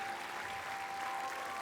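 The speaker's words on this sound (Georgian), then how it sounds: "აპლოდისმენტებით გავაცილოთ ჩვენი მონაწილე" A studio audience at a televised singing battle claps in a dense, even burst of applause, close and fairly loud throughout with no voices on top.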